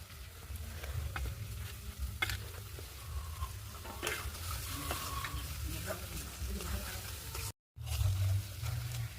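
Meat being stir-fried in a pan with coriander leaves on a wood-fired clay stove, a steady close sizzle with scattered scraping stir strokes, and a brief dropout near the end.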